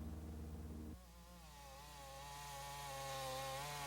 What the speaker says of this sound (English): Chainsaws cutting swaths across the thick trees for pulp.